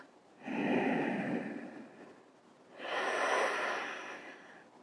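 Two slow, deep breaths during a yoga session, each a long airy exhale drawn out over about two seconds, close and fairly soft, with a short quiet pause between them and no talk.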